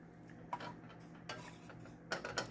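A spoon stirs cauliflower rice in a pan, making a few soft scrapes and clinks at a gentle, unhurried pace over a faint sizzle. The sounds are quiet and close, with no talking.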